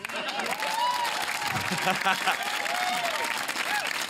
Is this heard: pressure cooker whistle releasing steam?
no